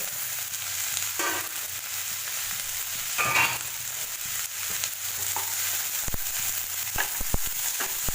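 Browned potatoes and peas fry together in a pan for a potato and pea curry, a steady close sizzle broken by stirring scrapes and several sharp utensil clicks in the later seconds.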